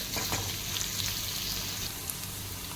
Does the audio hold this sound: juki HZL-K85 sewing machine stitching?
no